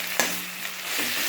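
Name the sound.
mustard seeds spluttering in hot oil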